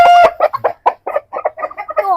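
Heavy poultry-farm chickens, about four kilograms each, cluck loudly and close up in a rapid, choppy series of short calls, with one drawn-out squawk at the start.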